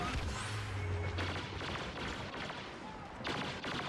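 Video game gunfire crackles in dense, overlapping bursts through a busy, noisy mix, with a low rumble at the start and a louder volley near the end.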